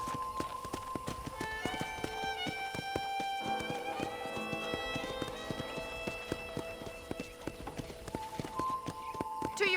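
Rhythmic horse hoofbeats in Red Dead Redemption clip-clop steadily over a bright, tinkling musical backdrop, the horse trotting along at a moderate pace throughout.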